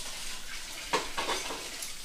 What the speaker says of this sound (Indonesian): Goreng kerupuk kok wajannya cukup impil loh, Bu.